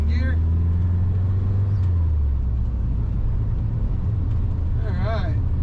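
A 1955 Ford F100 truck driving and cornering, with a loud, steady low engine drone from inside the cab and an engine note that shifts as it goes. Voices talk over it at the start and end.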